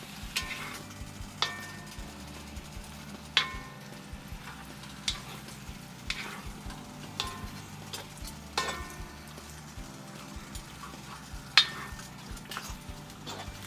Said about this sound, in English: Push it around at the bottom of the wok.